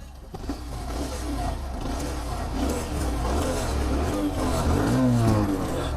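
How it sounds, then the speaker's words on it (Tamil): A Bajaj Platina 110 motorcycle with 25,000 km on it has its single-cylinder engine brought to life, settling into a steady low, close rumble that continues throughout. "இப்போ வண்டி வந்து நான் ஆன் பண்ணுறேன் பாருங்க."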